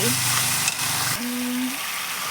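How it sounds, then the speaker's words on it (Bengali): Chicken sizzling loudly in hot oil with salt and turmeric while it is stirred and browned; a dense, continuous frying hiss, close by, with a faint tonal hum running underneath. "চিকেন দিয়ে দিয়েছি কষাবো ভালো করে কষাতে হবে"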